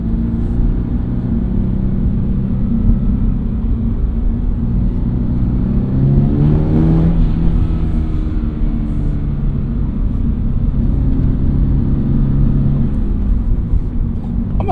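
Toyota GR86, a lightweight rear-wheel-drive manual sports car, engine droning and swelling under load while driving, heard from inside the cabin as a loud steady rumble with a brief rise in revs midway.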